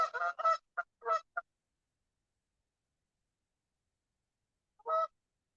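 Geese honking in the woods: a quick burst of several harsh honks close together, then a pause, and one more honk near the end, clear against a silent background.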